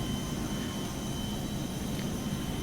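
An Airbus A320 in Microsoft Flight Simulator being pushed back at Toronto: a steady jet engine whine and broadband hum fill the cabin, constant and moderately loud, with no talking.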